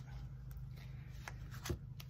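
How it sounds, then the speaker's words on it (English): Tarot cards are shuffled quietly in short, soft riffling bursts over a low background hum. "I'm going to shuffle it up good"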